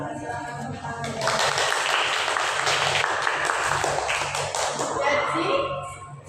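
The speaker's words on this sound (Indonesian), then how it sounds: "Silakan tepuk tangan." A classroom group claps together for several seconds, a dense, even burst of applause that swells quickly and then fades out toward the end.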